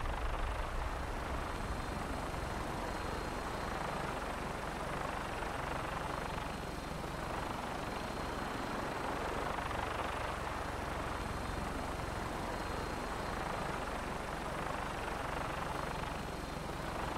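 Vertibird aircraft lifting off in Fallout 4, a dense, continuous rotor and engine roar that stays loud and even throughout with no break.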